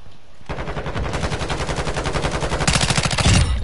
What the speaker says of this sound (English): All that damn shooting